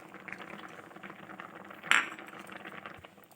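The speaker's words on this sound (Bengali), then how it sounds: "এবার হালকা করে আরেকটু" Carrot payesh, a rice pudding with cardamom, cashews and raisins, is gently stirred in a pot: soft scraping and faint liquid movement with one sharp metallic clink of the spoon on the pot, all quiet and without speech.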